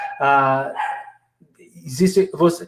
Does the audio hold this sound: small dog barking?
yes